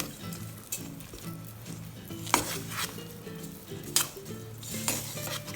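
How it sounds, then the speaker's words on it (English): Mashed potato and peanut powder are worked together in a bowl with a utensil, giving quiet, steady scraping and light clinks, a few sharper taps standing out, with no talking. "We will now mix these all together until they are well combined."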